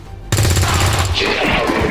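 A rapid burst of automatic gunfire from the video game XCOM 2 erupts suddenly and loudly, a tight rattle of shots followed by a crackling impact tail.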